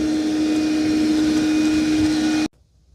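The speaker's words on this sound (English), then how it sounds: "Today I'm going to do a review on this Roborock Qrevo Edge Robot Vacuum Cleaner." A Roborock Qrevo Edge robot vacuum cleaner runs with a loud, steady motor hum and a whining tone, then cuts off abruptly into near silence.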